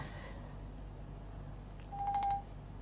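A telephone plays a short burst of dialing tones, a few quick beeps heard faintly over a low room hum.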